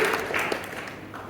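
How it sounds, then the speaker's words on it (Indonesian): A short burst of applause from a crowd at a Christian concert in a church in Jakarta, dense clapping that gradually thins out over about a second. "Berikan tepuk tangan yang baik"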